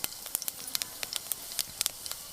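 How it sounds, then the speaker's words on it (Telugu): Cumin seeds crackling in hot oil in a pan, a continuous close sizzle dotted with quick sharp pops at an irregular rhythm, moderately loud, with no voices. "నూనె అయితే వేడైంది కొంచెం జీలకర్ర వేసుకుందాం"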